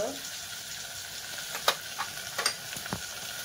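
Tomato, green chili, cinnamon and cloves sizzle in hot oil in a pan with fried potato, a steady soft frying hiss broken by a few clicks and stirring taps, with a voice speaking over it.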